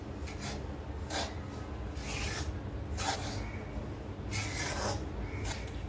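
A spoon scrapes and rubs through semolina roasting in a pan over a low flame for ladoo, in soft, repeated strokes with short pauses between them.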